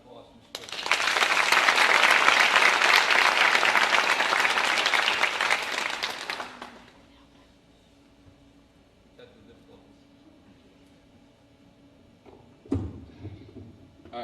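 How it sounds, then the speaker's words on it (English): An audience at a school academic awards ceremony claps loudly and steadily for about six seconds, then the applause fades into a quiet room with faint shuffling and a brief thump near the end. "So a big round of applause for Mr. Terpstra"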